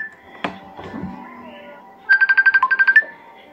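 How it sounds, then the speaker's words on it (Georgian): A phone's ringtone for an incoming call sounds as a quick train of about ten bright, electronic beeping pulses, close and clear, after a few soft thuds and background sounds. "ნიკოლოზი რეკავს ჩატში"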